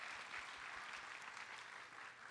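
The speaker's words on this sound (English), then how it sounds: "give her a round of applause" At a Hopkins Raspberry Festival royalty coronation, an audience claps for a woman called to center stage: faint, fairly distant applause with a steady texture that fades slightly toward the end.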